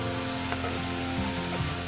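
Jalapeno pepper sizzling in a pan of caramelized vegetables for a winter vegetable coconut curry: a steady, close frying hiss throughout, with faint stirring scrapes and no talk.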